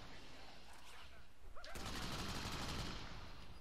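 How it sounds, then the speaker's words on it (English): Gunfire in the video game Crackdown, a faint quick burst of rapid shots starting partway through and running to the end at low volume. "I'm shooting this gun."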